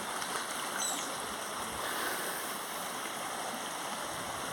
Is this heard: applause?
no